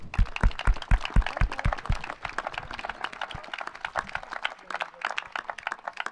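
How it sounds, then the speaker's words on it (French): An audience at a château in Pontgibaud applauds a cook who makes truffade. A few sharp claps open it, then a crowd's clapping settles into a quick, even patter. "On l'applaudit, mesdames, messieurs."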